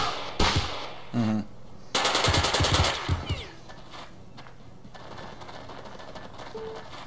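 Automatic gunfire from the Jagged Alliance 2 video game, a loud rattling burst of rapid shots lasting a couple of seconds. Shorter clattering bursts come before it, and quieter ambient game sound follows.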